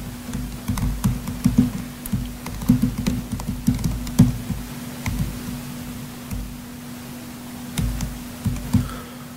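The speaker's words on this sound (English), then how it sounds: "Typing in front of conferences. Always tricky." Typing on a computer keyboard during a live conference coding demo, a steady run of close key clicks in bursts with brief pauses, no voices, over a low constant hum.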